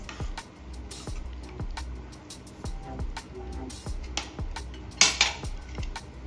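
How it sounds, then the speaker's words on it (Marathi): Shev bhaji with fresh coriander is mixed in a pan, and the spoon scrapes and clinks against the metal in a string of close, irregular taps, with one sharper clatter near the end. "आता एकदा इथे सर्व साहित्य मिक्स करून घ्यायचं"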